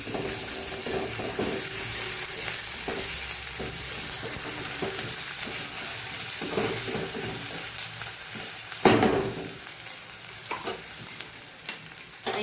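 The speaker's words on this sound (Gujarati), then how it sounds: "આદુ લસણ અને મરચાની પેસ્ટને ઉમેરી દઈશું એને સાતળી લેશું" Ginger, garlic and chili paste sautés with browned onions in a pan over a low flame for a Kathiyawadi okra gravy curry. A steady close sizzle runs throughout, with scraping stir strokes and a sharper clatter near the end.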